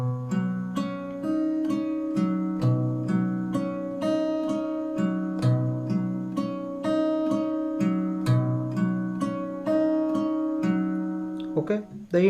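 Fingerstyle guitar plays the intro of a song, with plucked notes over a steady, repeating bass line in a clear, even rhythm, close and solo until a brief scrape at the end.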